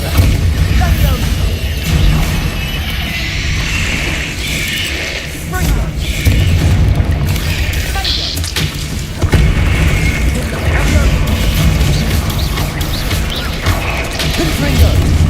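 Bombarda spell blasts in Hogwarts Legacy go off as loud booms and crashes amid constant magical combat whooshes, with a voice shouting over the dense, unbroken din.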